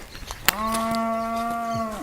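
Cattle lowing beside a lake in Costa Rica: after a few soft knocks, one long sustained moo starts abruptly and holds steadily for about a second and a half, fairly close and clear, with no talk over it.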